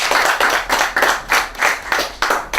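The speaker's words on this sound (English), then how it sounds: "Round of applause, come on." A small audience at a graduation ceremony applauds: a short burst of rhythmic, fairly close hand clapping with about eight distinct claps, no talking over it.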